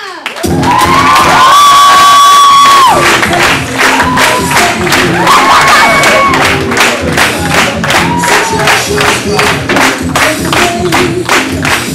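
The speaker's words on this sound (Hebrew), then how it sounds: "קבלו במחיאות כפיים את ישי שוורץ." A large school crowd at a Purim show cheers loudly, whooping and shouting, then breaks into sustained rhythmic clapping that continues steadily to the end.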